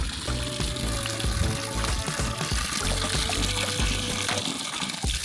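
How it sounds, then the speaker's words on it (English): Warm hot spring water gushes steadily from a source in Nevada's Great Basin, a loud continuous splashing and pouring rush that stays close and unbroken throughout. "Feel the water coming out."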